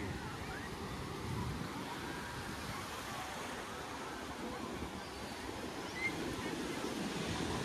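Sea waves on a beach in Ubatuba during rain, a continuous broad roar of surf at low, even level with no distinct breaks.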